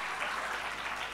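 An audience claps steadily during a comedy stage show, a short, dense burst of applause at even loudness with no voices.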